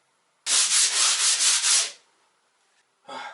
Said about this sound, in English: if you're sanding a small room like this, you're probably just gonna be hand sanding